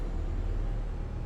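Steady low engine rumble from an NRM bus in the OMSI 2 driving simulator, a brief, even drone with no talk over it.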